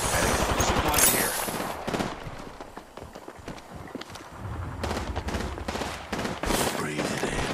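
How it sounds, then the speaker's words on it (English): Gunfire in the battle royale shooter Apex Legends, Season 6: loud rapid automatic bursts and single shots in a busy firefight, with brief lulls and other game sounds between them. "I'm getting shot at"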